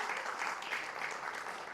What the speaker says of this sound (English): Round of applause for Juvain, please.